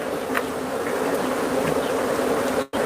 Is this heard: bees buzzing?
yes